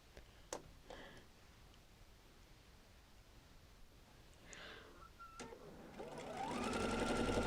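A sewing machine stitches diagonal seams across quilt blocks, starting faintly after a few soft clicks and handling noises, then building into a steady, close, rapid whirring hum near the end.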